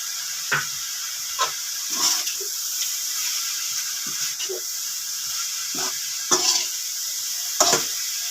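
Cabbage stir-fries with soy sauce in a hot pan. A steady hiss of sizzling runs throughout, broken by several louder bursts of spatter and scraping as the vegetables are tossed and stirred.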